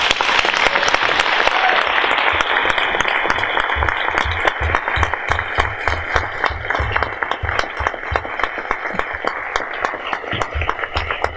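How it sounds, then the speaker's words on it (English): Sustained audience applause at a talk on life after incarceration, loud and steady throughout with dense clapping, close and filling the room, no speech over it. "could you all please join me in giving Danielle a round of applause?"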